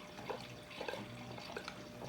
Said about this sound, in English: Now I can put a little bit more water in here.